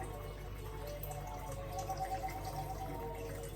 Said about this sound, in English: Then the next step is you add some water.